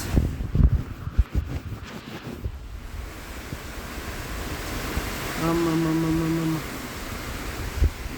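Strong monsoon wind and rainstorm in Bhaktapur: a steady, rushing roar of wind and pouring water with gusty swells, plus a brief low humming tone partway through.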